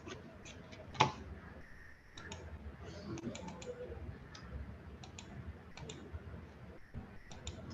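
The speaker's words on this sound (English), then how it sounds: "I'm not able to click for some reason." Repeated computer mouse clicks during an options trading webinar, sharp ticks scattered irregularly over a low murmur of background noise, one louder click near the start, with no one speaking.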